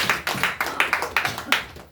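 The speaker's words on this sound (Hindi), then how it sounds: "आइए ताली मारेंगे यीशु के लिए" A congregation at a Maundy Thursday church service claps in a quick, steady rhythm, about ten sharp claps in under two seconds, fairly close and clear.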